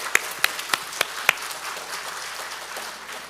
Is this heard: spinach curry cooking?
no